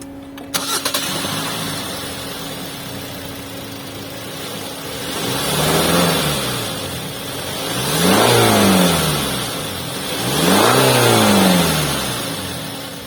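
A Hyundai Santa Fe diesel SUV starts up and settles into a steady idle, then gets three rising-and-falling revs spaced a couple of seconds apart, loud and close with no talking.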